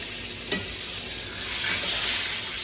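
Berkshire pork chop sizzling in a frying pan, a steady broadband hiss throughout with a brief clatter of the chop being turned early on, growing slightly louder toward the end, no talking.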